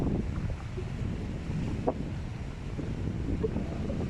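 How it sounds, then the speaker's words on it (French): Wind blows along the rocky Quiberon coast of Brittany, producing a steady, moderately loud broadband rush with low buffeting and faint surf beneath, with no clear speech. "aujourd'hui on a un peu de vent"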